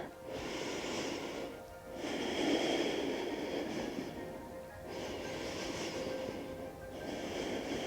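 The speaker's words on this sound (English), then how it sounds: "And then taking 3 deep breaths" Slow, deep breathing during a hips-and-shoulders yoga twist, with two or three long, airy breath cycles rising and falling steadily, close and fairly loud, without talk.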